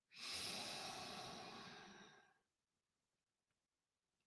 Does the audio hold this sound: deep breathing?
yes